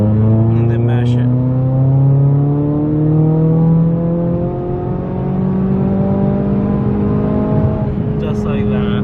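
A Ford EcoBoost turbocharged car accelerates hard at full throttle, the engine note climbing steadily in pitch through the gears with a brief dip at a shift, loud and close from inside the car.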